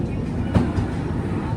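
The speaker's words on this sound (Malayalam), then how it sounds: "ട്രെയിൻ ഇതാ എറണാകുളം ടൗൺ റെയിൽവേ സ്റ്റേഷനിലേക്ക് എത്തുകയാണ്." A train pulls into Ernakulam Town railway station on the Vivek Express route, a steady loud rumble of rolling wagons with faint clatter throughout, heard close.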